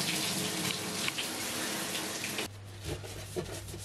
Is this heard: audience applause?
no